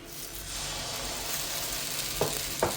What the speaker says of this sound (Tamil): நம்மளோட ஆப்பச்சட்டி சூடாயிடுச்சு. நம்ம ஆப்ப மாவு எடுத்து ஒரு கரண்டி எடுத்து இப்படி ஊற்றிக்கலாம்.